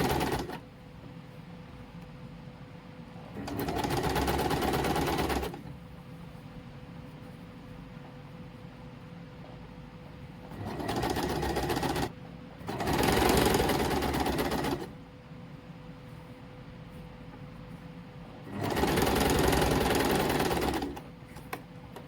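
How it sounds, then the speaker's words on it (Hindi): A sewing machine stitches a suit seam in three close, loud bursts of rapid whirring, each a few seconds long, separated by quiet pauses with a faint background hum. "साइड से इसको मोड़ के स्टिचिंग लगा देंगे।"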